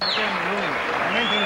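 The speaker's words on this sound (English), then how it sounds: "Standing ovation." Standing ovation applause from a Las Vegas boxing crowd after a fight, a dense continuous wash of clapping and cheering that stays loud throughout, with a commentator's voice running over it.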